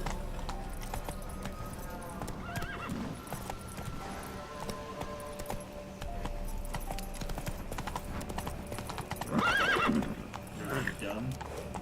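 Roach, the horse in The Witcher 3, clip-clops along at a steady pace and then lets out a loud, close whinny near the end, heard over quiet game ambience with a little speech.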